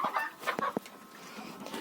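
Several short, soft clucks from young Lohmann Brown laying hens in a quick irregular burst, close by, then trailing off into quiet background.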